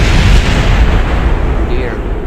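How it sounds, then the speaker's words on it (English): Overheating RCS thrusters explode on a spacecraft in Kerbal Space Program, a loud, dense rumbling blast that fades slowly over a couple of seconds. "It's going to be the RCS thrusters overheating. Exploding."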